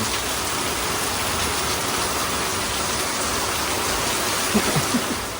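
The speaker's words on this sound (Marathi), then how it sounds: "अजून पण पाऊस चालूच आहे बारीक बारीक पाऊस" Light, steady rain falls in Konkan as a dense, even hiss that holds at the same level throughout, with no voices.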